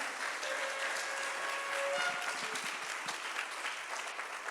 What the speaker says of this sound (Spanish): Dele fuerte esa ofrenda de palmas